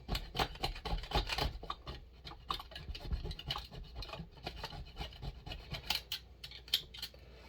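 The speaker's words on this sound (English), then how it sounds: "we got all that old gasket material off" Scraping old gasket material off a clone chainsaw cylinder, a close series of quick rasping scratches in uneven bursts that continue throughout.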